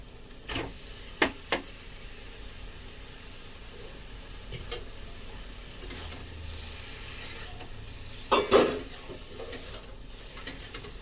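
Taro stolons stirred in a frying pan, giving a soft continuous sizzle broken by a few sharp scraping knocks of the utensil, with a louder cluster near the end.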